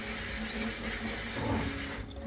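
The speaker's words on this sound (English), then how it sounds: "you are going to rinse all that ultrasonic liquid off these instruments" Water runs from a tap over surgical instruments, rinsing off ultrasonic cleaning liquid in a steady, loud, broadband splashing rush that continues for about two seconds and then cuts off abruptly.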